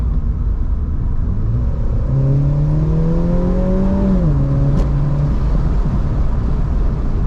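F56 Mini Cooper S engine while driving, a low droning hum that rises in pitch, dips briefly and settles, heard under constant heavy wind roar.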